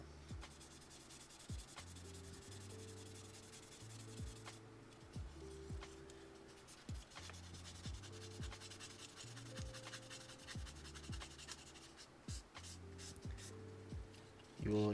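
Sanding an assembled plastic part of an RG MSN-04 Sazabi model kit, a series of quick rhythmic rubbing strokes close up, repeating steadily over faint background music.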